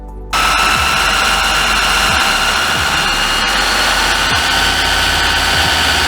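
A sewer jetter's engine starts abruptly and runs at a loud, steady roar with a high whine, carrying on evenly without any talking.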